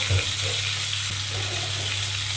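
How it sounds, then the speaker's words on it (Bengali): A salted, turmeric-coated katla fish head fries in hot oil, giving a loud, constant close-up sizzle with a low steady hum beneath it and no talking. "এবারে আমি নুন হলুদ মাখানো মুড়োটা এর মধ্যে দিয়ে দেবো দিয়ে আমি ঢাকা দিয়ে দিয়ে এটাকে সুন্দর করে ভেজে নেব"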